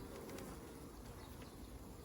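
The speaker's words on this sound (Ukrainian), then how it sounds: "тут буде зараз у нас дуже багато бджоли" A dense, continuous buzzing of many honey bees in a hive, close and steady, with no voices.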